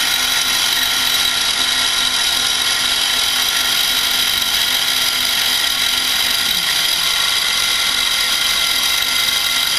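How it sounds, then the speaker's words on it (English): A drill bit bores into a model railway track segment, a steady, loud broadband whine running without pause from start to finish, with a faint low tone that drops away near the end. "Now going to proceed to dropping the drill bit down in front of the centre of the track."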